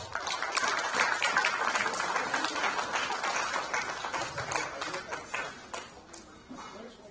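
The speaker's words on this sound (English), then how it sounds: "So please welcome them with a round of applause." Sustained audience applause at a diabetes awareness and research society's global scientific conference, a dense wash of many hands clapping at steady loudness that thins slightly toward the end.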